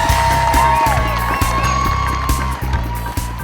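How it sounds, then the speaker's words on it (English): Cheering crowd along Flower Street at the finish line of the 2005 Los Angeles Marathon, a loud, sustained roar of voices and whoops with scattered clapping and shouts, staying dense and steady throughout. "The crowds cheer louder and louder as more and more finishers stride into view"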